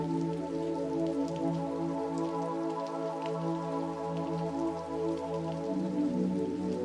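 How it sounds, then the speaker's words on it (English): Gentle, steady rain falls continuously without pause at an even, soft level, a dense patter of drops on a surface with no voices. "A little rain."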